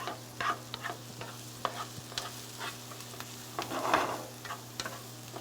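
Onions sweating with a pinch of salt in a pan, a soft steady sizzle broken by light scattered stirring clicks and taps, close and fairly quiet, no voices.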